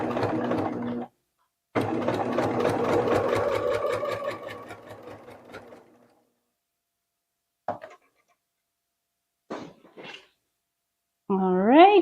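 A sewing machine stitching quilt pieces together along a 45-degree angle seam, a loud steady mechanical run that fades out and leaves silence, followed by a couple of brief knocks and a person talking at the end.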